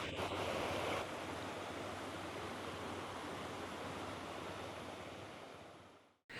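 Water flows over stone carvings in a riverbed at Mount Kulen in the Cambodian jungle on a rainy day, making a steady, full rush that fades out near the end.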